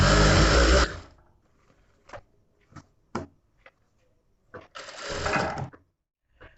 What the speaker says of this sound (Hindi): अब हम इसे भी इस तरीके से सिलाई लगा देते हैं।